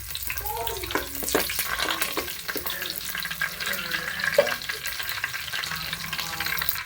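Curry leaves crackle and sizzle in hot ghee for a Tulu-style chicken ghee roast, with a busy frying hiss and a few utensil taps and stirring sounds throughout.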